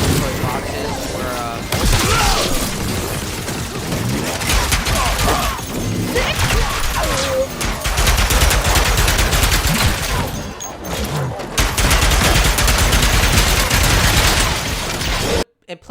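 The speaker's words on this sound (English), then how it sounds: "This is probably some sort of shotgun. Electric shotgun." The Enforcer electric shotgun from Ratchet and Clank Rift Apart fires in repeated loud blasts and rapid bursts amid dense combat noise, with mechanical clanks and a talking voice over it.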